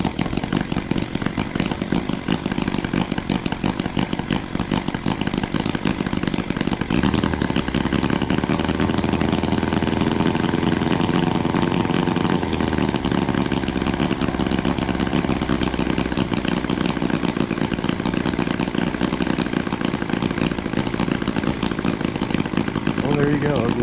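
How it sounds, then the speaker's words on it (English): A small H75 engine drives a generator built from a snowblower electric starter, running loud and steady with a buzzy, chainsaw-like drone that deepens slightly partway through and keeps going throughout. "A little H75 engine running a generator."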